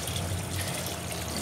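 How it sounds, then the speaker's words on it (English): Water pours steadily into a sump pit in a pump-control test setup, a continuous close splashing flow with no talk. "let's simulate pump 2 of running by pouring more water"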